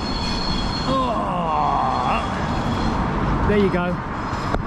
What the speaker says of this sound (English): Train going to different places.